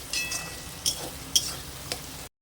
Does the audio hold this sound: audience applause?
no